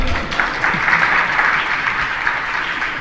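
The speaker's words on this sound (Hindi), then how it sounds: "बजाओ ताली" Loud, dense applause from a large seated audience at a Jain religious discourse, steady clapping sustained throughout without a break, close and full, with no speech over it.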